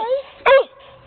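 A dog gives a single loud, close bark after a brief whine, the short burst standing out against quiet surroundings.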